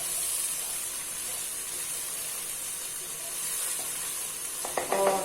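Frying minced keema in a pan sizzles and hisses steadily after half a glass of water is poured in, a close, continuous bubbling steam with a few clinks near the end.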